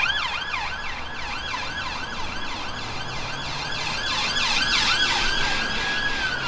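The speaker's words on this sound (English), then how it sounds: "I'll just wait till these sirens pass." Several police car sirens pass near a roundabout, wailing in a fast repeating up-and-down pattern that grows slightly louder toward the end and dominates steady traffic rumble, with no one talking.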